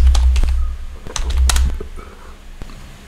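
Someone types a pip install command on a computer keyboard, producing a short run of quick clicking keystrokes close up, then a pause, over a steady low hum.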